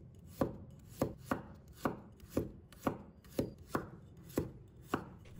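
Knife chopping sliced garlic on a cutting board in a home kitchen, about a dozen crisp, evenly spaced thuds with a steady rhythm, close and clear with no talking.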